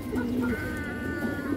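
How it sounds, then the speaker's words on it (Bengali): A female pigeon coos close by, a few low, mellow throaty calls rising and settling over a steady background murmur, with no voices. "এই দেখেন মাদি কবুতর"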